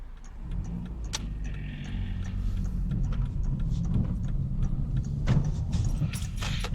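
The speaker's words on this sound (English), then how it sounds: "Open the window somewhat and get some fresh air in." A car cruising along Kent country roads with a window partly down, a steady road and engine rumble joined by wind rush and small rattles, constant and close with no talk.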